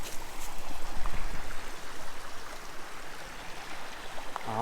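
A creek flows at a trail crossing, a steady soft rushing and burbling of water, fairly close and alone, with no voices.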